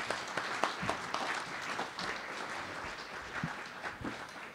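An audience at a candidates night applauds the town clerk candidates, a sustained round of clapping from a roomful of people, fairly even in loudness across the whole stretch.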